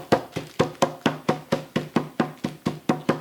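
Steady, evenly spaced thumps, about four per second, as a chicken breast is pounded flat on a countertop through a plastic bag.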